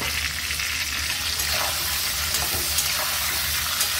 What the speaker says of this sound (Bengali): আলু বেগুনটা আমার ভাজা হয়ে গেছে। এবার এর মধ্যেই আমি একটু টমেটো কুচি দিয়ে দেবো।